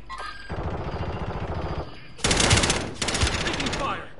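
Rapid automatic gunfire in the Call of Duty Warzone video game, loud sustained bursts of machine-gun fire with brief gaps, mixed with game effects and a radio-style voice.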